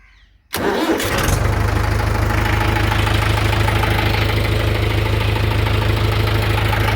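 A Mahindra 575 tractor engine cranks briefly and catches, then settles into a loud, steady diesel idle with a low rhythmic throb that continues to the end, with no voices.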